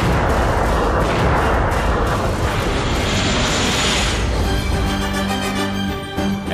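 An FA-50 fighter jet fires its automatic cannon and launches missiles in a dense, loud barrage of booming bursts and rumbling blasts that continues without pause.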